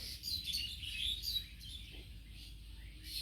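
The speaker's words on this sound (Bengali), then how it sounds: "এই গাব গাছে আছে অনেক শালিক একসাথে এখানে থাকলো।" Many myna birds gather in a velvet apple tree near a coconut palm and chirp together, a dense, lively chatter of high calls that is busiest early and then thins under a steady low background.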